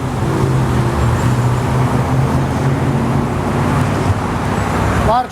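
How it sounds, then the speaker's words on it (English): Steady street traffic rumbles nearby, with passing vehicles forming a continuous low roar and a brief higher tone near the end. "A lot of traffic noise"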